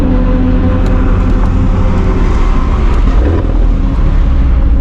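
A Callaway Corvette Z06 from the 25th anniversary run, rated at 757 horsepower, pulls hard at full throttle in fourth gear with a loud, dense engine roar. Heard from inside the cabin, the drone holds steady for the whole stretch with no talk.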